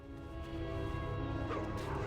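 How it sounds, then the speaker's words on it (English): Wargs barking and snarling in World of Warcraft's Burning Steppes, a steady loud mix of dog-like barks and yelps over dense game combat noise, with no one talking. "Get the wargs away from me."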